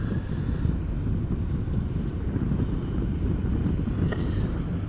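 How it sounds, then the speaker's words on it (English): Wind at Amsterdam Schiphol Airport buffets the microphone in a loud, steady low roar that lasts the whole stretch, with no talking. "Wind is blowing from this direction more or less."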